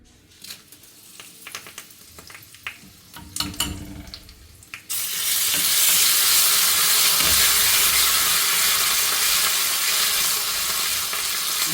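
Dried red chillies go into hot oil in a pan: a few quiet clicks and taps, then a sudden loud, steady hiss of frying that holds to the end.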